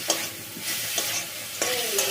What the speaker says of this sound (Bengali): এখন চিকেনটা একটু ভালো করে কষিয়ে নেব